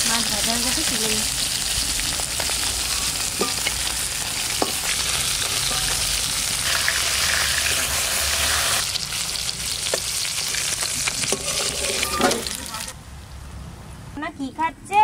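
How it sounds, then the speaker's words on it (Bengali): Pieces of katla fish fry in hot oil in a home kitchen, a loud continuous sizzle with occasional stirring clatter that cuts off near the end, while a person talks over it. "মাছ ভাজা হয়ে গেছে, তুলে নিই।"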